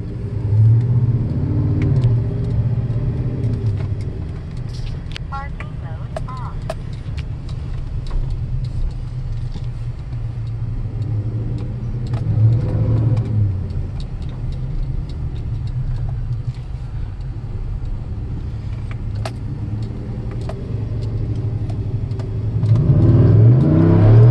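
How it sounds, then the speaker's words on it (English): A 2017 Chevy Silverado Z71's modified 6.2 V8 revs repeatedly with a deep, throaty exhaust rumble, idling low between sharp bursts, loudest near the end. "test the throttle body and listen to a little bit of exhaust"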